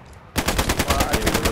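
Rapid automatic gunfire in a multiplayer shooter video game, a dense burst of evenly spaced shots starting abruptly and continuing steadily, loud and close with no talk.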